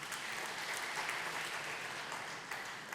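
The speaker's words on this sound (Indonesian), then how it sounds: "Tepuk tangan dulu buat Tuhan kita yang baik." A church congregation applauds with sustained, even clapping from many hands, a steady wash that holds at moderate loudness and fades slightly toward the end.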